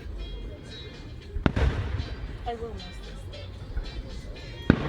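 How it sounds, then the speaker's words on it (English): Distant fireworks bursting outdoors at night, two sharp booms standing out among softer pops, while several people chat nearby throughout. "We might see another fireworks too"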